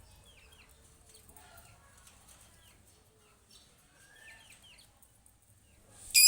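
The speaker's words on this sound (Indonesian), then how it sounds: "Ini burung, masya Allah, tabarakallah, indah sekali ya burungnya ini." A bird gives several short, high, sweet calls at a moderate distance in a quiet setting, with scattered chirps and a sudden loud noise at the very end.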